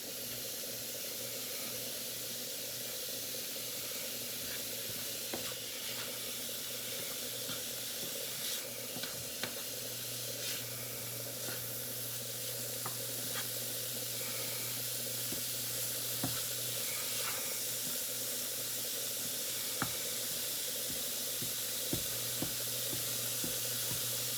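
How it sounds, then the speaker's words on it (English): Continuous crackling sizzle of breakfast roll fillings frying in a pan on medium heat, steady and fairly close, with occasional sharper pops over a low hum. "Slowly turn it back down to medium once you hear the sizzle."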